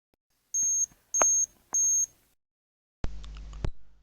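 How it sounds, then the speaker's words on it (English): Door-open alarm buzzer on an intelligent refrigerator control module prototype: three short, even electronic beeps in a steady rhythm, followed by one longer, lower buzz, all close and clear against silence. "As the door is left open, the LCD will display door open, and if this persists for some more amount of time, a buzzer will sound."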